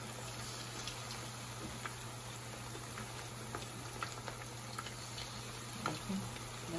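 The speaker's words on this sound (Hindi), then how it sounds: "बड़े केयरफुल तरीके से बिल्कुल ही आराम से ये अपनी चिकन डालिएगा, क्योंकि ऑयल ज़्यादा होता है" Chicken pieces for restaurant-style Chicken 65 frying in plenty of hot oil, a steady low bubbling sizzle with scattered crackles and a few louder pops, fairly quiet and with no talking over it.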